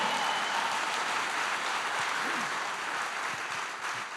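A church congregation at a Spanish-language sermon applauding together, a dense continuous patter of clapping that holds steady and eases slightly toward the end, no speech over it.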